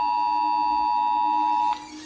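Romanian emergency alert alarm tone, a Morse-code-like signal: a loud, steady electronic beep held for nearly two seconds before stopping abruptly, with no speech.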